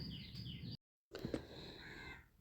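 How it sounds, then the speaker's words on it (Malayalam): Birds call outside in the distance, including crow-like caws and chirps, faint and broken by a short gap of silence. "പുറത്ത് നല്ല കിളികളുടെ ശബ്ദവും കേൾക്കാൻ നല്ല രസമുണ്ട്"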